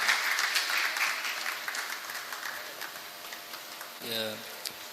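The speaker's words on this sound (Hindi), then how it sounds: "जोरदार तालियों के साथ" An audience at a mushaira poetry gathering in Nawabganj, 2016, applauds a poet: dense, loud clapping that gradually thins and fades over five seconds, with a brief voice rising near the end.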